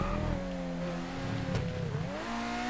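A Formula Drift car's engine in GTA 5 hums and revs steadily, its pitch dipping and climbing again in a sustained tone, with a brief sharp burst partway through.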